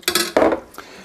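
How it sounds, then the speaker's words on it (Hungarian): A small ladle stirs a sauce in a pot, giving two short bursts of metallic scraping and clinking, close and fairly loud, followed by a fainter third touch. "ki fogom keverni ezt is csomómentesen nyilván"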